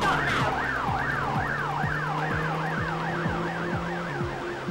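Police car sirens from the video game The Getaway wail in rising and falling sweeps, several overlapping over a steady engine drone at moderate level, with no voices.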